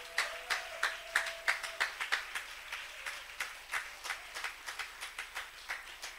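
A church congregation claps in a steady, rhythmic beat, several claps per second, fairly faint and distant, with no talking over it.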